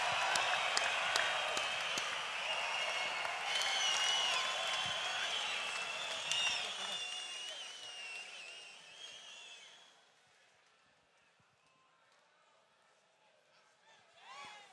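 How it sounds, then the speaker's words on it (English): Crowd applause and cheering at a heavyweight boxing fight in Townsville, loud and sustained for about ten seconds before fading to a quiet hall, with a brief swell near the end. "it is an absolute must that we give these guys one more round of applause"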